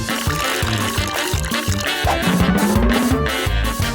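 Water poured into a homemade pebble and sand filter, a steady close trickle with a faint gurgle, heard against loud rhythmic background music.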